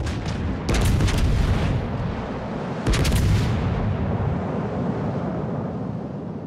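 Heavy naval gunfire from a battleship in a video game, two deep booming salvos about two seconds apart, each with a sharp crack and a long rumbling tail, loud against a steady wind-like roar with no talking.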